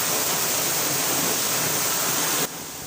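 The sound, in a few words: heavy rain falling in Konkan, Maharashtra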